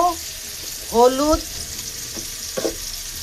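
Shrimp fry with plenty of garlic in a pan, a steady, close sizzle running throughout while a voice speaks briefly over it.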